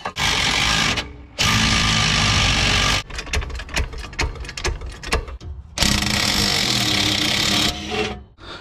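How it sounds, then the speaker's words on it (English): A power tool undoes front suspension bolts on a BMW E60, with long loud whirring bursts around a middle stretch of fast ratcheting rattles, close and with no talk. "So what we'll do now then is we will undo these bolts."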